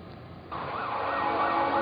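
Sirens sound across Lima, Peru, to open a national earthquake drill: a steady wailing tone that swells noticeably after a brief quieter start, then holds loud and continuous with no talking.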